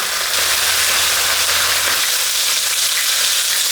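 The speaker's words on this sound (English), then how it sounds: "while the chicken wings are pan frying, we're just going to give our vegetables a quick stir fry" Loud, close sizzling of chicken wings pan frying, a constant bright hiss and crackle with no talking.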